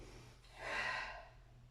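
A single audible inhalation during a cardio and muscle-toning workout, swelling and fading over about a second against a quiet, hum-filled room.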